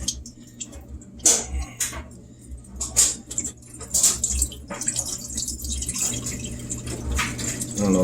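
Water gushes and drips from the opened drain filter of a Whirlpool washing machine, with an uneven splashing trickle and sharp drip spatters at irregular moments, close by and fairly quiet over a low steady hum, with no voices.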